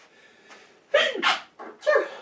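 A single sharp sneeze bursts out after a quick intake of breath, close and loud, followed by a short breathy exhale, during a podcast-style conversation.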